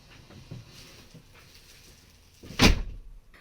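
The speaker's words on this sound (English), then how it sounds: "And then we shut this door, we come inside." A camper van door on a Crafter van build slams shut with one loud thud near the end, after quiet shuffling and faint background movement.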